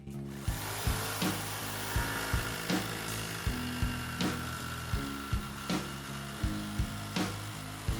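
Saw cutting through wood during a van build, with repeated rhythmic strokes about every half second, each sharp pass over a steady mechanical drone, loud and close with no talking.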